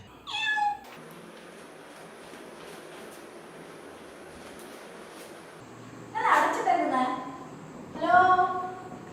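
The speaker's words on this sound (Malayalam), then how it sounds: "ഓ ഇല്ലത്തെ പൂച്ചയാണല്ലേ തുറന്നു തരാം" A house cat meows close by, one sharp cry at the start and two longer, louder meows near the end, with a faint steady hum and quiet background sound between them.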